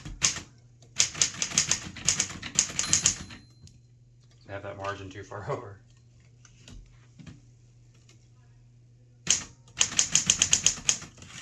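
A 1938 Corona Sterling manual typewriter typed in quick clattering bursts of keystrokes, separated by a pause with brief carriage and margin noises and a short spoken remark, before another rapid run of typing.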